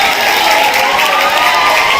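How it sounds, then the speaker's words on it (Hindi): Applause fills a seminar hall, a dense, loud and even wash of many hands clapping close by, continuous without a break. "मोहतरम इस्माइल वफा सर के लिए जोरदार तालियां होनी चाहिए।"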